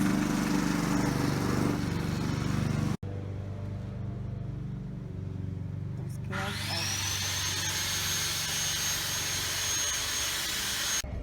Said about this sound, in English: Then we got my loves mowing the lawn.